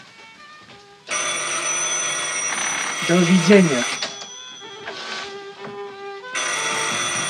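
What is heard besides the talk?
telephone bell ringing in a film scene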